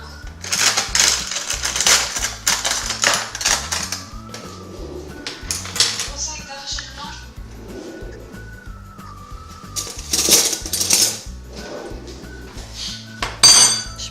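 Small glass jars clinking and clattering against each other and a countertop in a home kitchen, a busy run of sharp clinks and knocks with bursts of louder handling, no talk.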